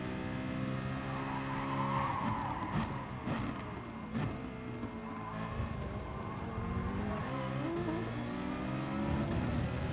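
A Citroen race car in a racing video game screeches through a corner with sustained tire squeal over a loud, steady engine drone, close and continuous with no pauses, no voices.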